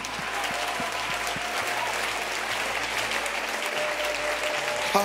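A church congregation claps and cheers for the Lord during worship, with sustained crowd applause that stays steady and full from start to finish, backed by a low hum.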